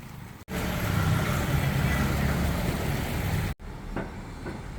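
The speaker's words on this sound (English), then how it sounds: "all this traffic right here where this motorbike is turning" Dense street traffic roars close by at a busy intersection on Sukhumvit Soi 39 in Bangkok, with a motorbike turning through the flow; a steady loud rumble breaks off abruptly and resumes quieter.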